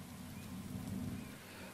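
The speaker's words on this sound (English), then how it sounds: "Is it because of the thunderstorm?" Steady rain with low rumbling thunder in a video game thunderstorm, a continuous wash of patter over a deep, rolling low end, moderately quiet with no voices.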